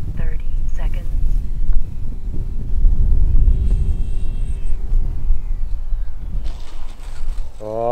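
A Hawk King 928mm PNP RC seaplane flies outdoors on a calm day. A faint, thin motor whine rises and falls over a low, windy rumble, and brief voice sounds come near the start and end.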